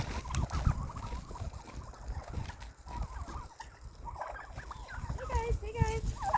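Backyard chickens cluck and squawk impatiently while waiting for snacks on a winter day, a busy mix of close overlapping calls and rising squawks over low background noise.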